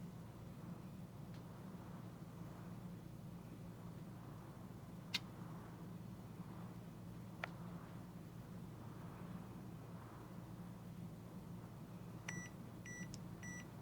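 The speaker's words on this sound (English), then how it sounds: "Once you hear that gentle beep, that's your cue to know that the timer is done." Heat press timer finishing a sublimation print on a kitchen towel, a short series of soft electronic beeps near the end after a couple of faint clicks over a quiet room hum.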